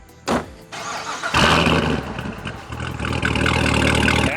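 A car engine cranks briefly, then catches and roars to life before settling into a steady, loud idle close by.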